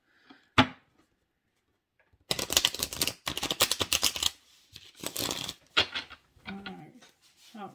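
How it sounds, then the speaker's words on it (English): A deck of tarot cards is shuffled by hand in rapid bursts of riffling and flicking with brief pauses between them. The sound is close and crisp, with faint talk around it. "I'm having a really hard time shuffling these cards today for this question"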